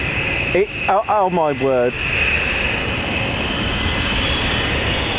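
A USAF bomber jet taking off at RAF Fairford: a loud, steady, broad jet-engine roar that fills the whole stretch, with a spectator's excited voice briefly over it at the start.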